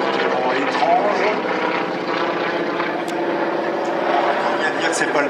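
A 1930s vintage propeller aircraft drones loudly and steadily as it climbs while towing a glider at the La Ferté-Alais air show, with an announcer talking over the engine noise.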